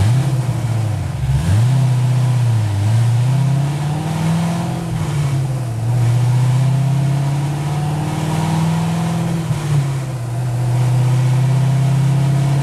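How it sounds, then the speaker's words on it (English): A car engine's exhaust drones steadily at about 2800 RPM in third gear while fuel injectors are switched off one at a time, the low rumble wavering and dipping now and then, loud and close with no speech. "The exhaust will change as we turn them off one at a time."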